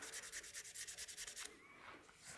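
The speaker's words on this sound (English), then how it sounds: "Just to get rid of any radial sanding marks, I just want to sand this lengthwise." Sandpaper rubs lengthwise along a wooden crank-top pepper mill spinning on a lathe, a fast pulsing scratchy rasp for about a second and a half before it stops and a faint hum remains.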